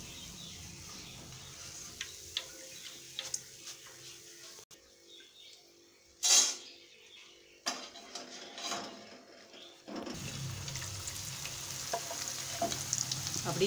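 Boondi batter fries in hot oil with a steady fizzing sizzle and bubbling. It drops out briefly mid-way around a sharp clatter, then returns as a stronger, even sizzle.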